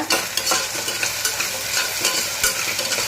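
Green chillies sautéing in ghee for one-pot ghee rice, a steady loud sizzle with frequent stirring scrapes and light knocks of a spoon against the pot, close and without talk.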